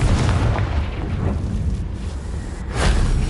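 Confringo fire spell in Hogwarts Legacy, a loud fiery blast with a rumbling low boom that sustains throughout and swells again near the end, heard on its own.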